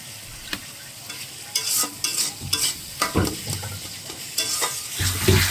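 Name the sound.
water added to frying spice masala, stirring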